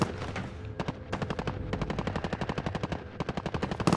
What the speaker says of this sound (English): Who is this guy shooting me from the left?